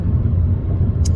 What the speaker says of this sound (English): I see a huge traffic jam and it just stressed me out.